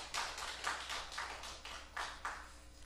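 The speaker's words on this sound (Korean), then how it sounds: "하나님께 영광의 박수 올리겠습니다." A church congregation claps in praise during an early-morning revival service. The claps come as a steady, evenly spaced rhythm of about three per second, faint and somewhat distant, with no voices over them.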